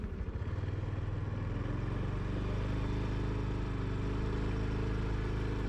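A 2023 Honda Super Cub motorcycle runs on a delivery ride with a steady, low engine drone, close and continuous, with faint mechanical clatter and no voices.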